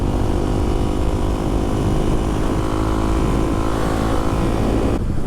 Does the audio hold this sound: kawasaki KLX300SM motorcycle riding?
yes